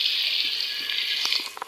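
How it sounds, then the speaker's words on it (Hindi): Water pours steadily into a pot of rice, a continuous close splashing stream with a few small plops near the end. "पानी ऐड कर दूंगी"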